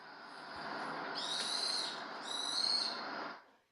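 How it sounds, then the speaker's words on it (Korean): A recorded bird call comes through a phone speaker, two thin high whistled notes over a hissy, low-quality background, faint and somewhat distant. "새소리거든요"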